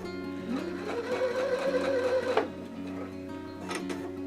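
A sewing machine stitches a cloth doll gusset, its motor humming steadily for a couple of seconds and then stopping at a corner with the needle down, followed by a short whir.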